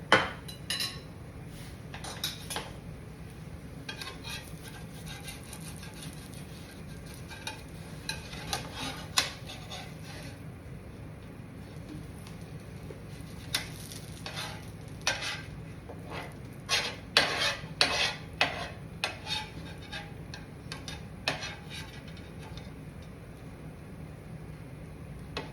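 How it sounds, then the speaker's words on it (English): Scraping and clinking of a metal spatula over a cooking griddle, pushing off leftover food bits after buttering, in intermittent bursts of short rasps and taps over a steady background hiss, with louder clusters toward the end. "I like to clean my griddle as I go."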